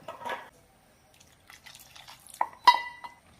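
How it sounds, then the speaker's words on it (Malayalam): Water poured into a pan of mixed theeyal curry made with shallots, carrot and bitter gourd: a soft splash and trickle, then a few dripping and clinking sounds near the pot, quiet overall with short gaps between. "ആവശ്യത്തിനുള്ള വെള്ളം കൂടെ ചേർക്കാം."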